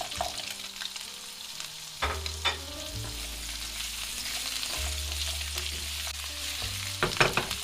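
Ginger slices and bamboo shoots stir-fried in a little oil in a wok, a constant close sizzle broken by several sharp scraping strokes of the spatula.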